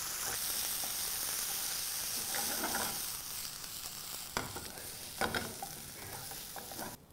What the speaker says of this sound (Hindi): इसके अंदर हम ये हमारी पालक और मिंट की पेस्ट डालेंगे और इसे अच्छे से भून लेंगे